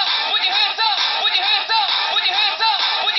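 Remixed music played through an Apple iPhone 4S speaker: a steady, dense, loud mix with a rhythmic pulse under a constant bright wash. It plays alone, with no talk over it.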